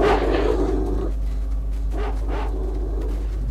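Dogs barking in the video game S.T.A.L.K.E.R.: Shadow of Chernobyl, several sharp close barks and yips over a low rumbling ambience, with a louder burst at the start and two more barks a couple of seconds later.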